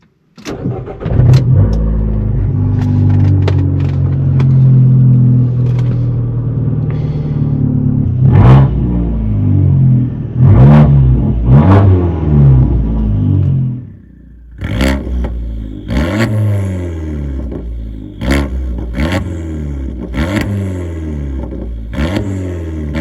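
A Fiat 500 Abarth turbo with a five-speed manual engine revs loud and close while driving, with a steady rumble, then a brief dip before sharp repeated throttle blips and gear changes.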